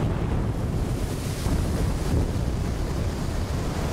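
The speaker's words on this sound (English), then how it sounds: "by all this water pouring out the castle, does that fill up a lake somewhere else?" Steady rushing water pours out of a castle in Elden Ring: Shadow of the Erdtree, a dense, continuous roar with no voices.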